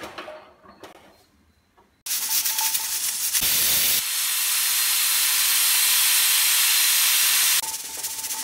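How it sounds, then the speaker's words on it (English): A pressure cooker whistle releases a loud, steady hiss of steam while cooking dal for sambhar, holding for several seconds and dipping briefly before continuing, after a quieter stretch of faint kitchen noise. "cook this in pressure cooker for 4 to 5 whistles"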